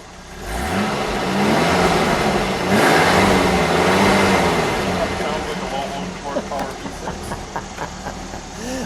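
The engine of a 1978 Ford Mustang II Rallye Appearance Package cranks, catches and runs close by, revving up before settling into a lumpy idle, with people talking over it.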